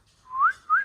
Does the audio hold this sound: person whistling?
yes